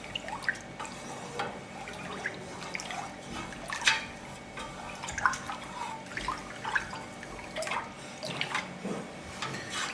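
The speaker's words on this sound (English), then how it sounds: "So I'm going to stir this for about 10 seconds just to make absolutely sure." A cottage cheese mixture is stirred in a bowl, giving soft wet sloshing and small liquid clicks in an irregular rhythm, close and fairly quiet, with no speech.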